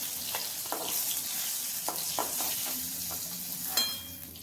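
Fish pieces fry lightly in hot oil in a pan, turned over on both sides for a Bengali fish curry, giving a steady close sizzle punctuated by sharp pops and spatters, with no voices.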